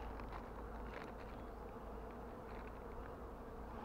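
Dense, steady buzzing of a large bee swarm pouring out of a disturbed hive inside a telecom tower station in Ba Ria-Vung Tau, close and continuous with no talk over it.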